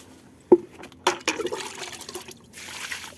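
Kitchen waste water, such as rice-rinse water, is poured onto flowering plants in a garden, making a splash and then a close, uneven trickle and gurgle of liquid soaking in, with no voices.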